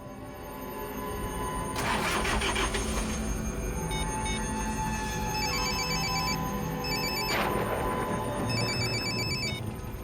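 A telephone rings in repeated electronic trills, moderately loud, over a low rumbling background with a couple of brief louder bursts of noise.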